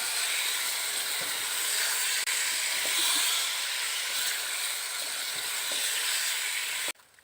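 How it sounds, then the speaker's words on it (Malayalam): Prepared mango pieces for mango pickle hit a hot pan taken off the heat and are stirred, giving a loud, steady sizzling hiss that continues unbroken before cutting off abruptly near the end. "തീ ഓഫ് ചെയ്തിട്ട് നമ്മൾ തയ്യാറാക്കി വെച്ചിരിക്കുന്ന മാങ്ങ ഇട്ട് കൊടുക്കാം ഇട്ട് കൊടുത്തിട്ട് ഇളക്കിയെടുക്കാം"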